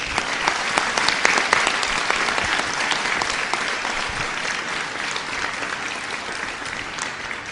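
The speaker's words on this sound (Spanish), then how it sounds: "que les da este aplauso de bienvenida" A church congregation gives a sustained round of welcoming applause, a thick, even wash of many hands clapping close and loud that carries steadily throughout without a break.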